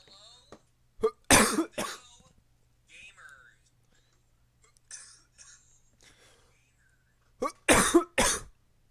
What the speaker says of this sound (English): Sorry, I'm coughing today.